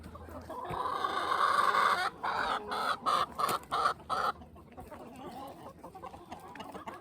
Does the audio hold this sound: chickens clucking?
yes